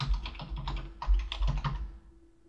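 Rapid, irregular typing on a computer keyboard, close and clear, with clustered keystrokes in short bursts that stop near the end, no speech.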